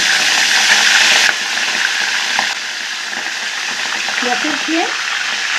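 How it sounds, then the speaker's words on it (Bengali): Prawns dropped into hot mustard oil in a kadai sizzle loudly and close, the hiss easing off after a second and then continuing more quietly with some faint clatter. "এই গরম তেলের ওপরে চিংড়ি মাছগুলো ছেড়ে দেব"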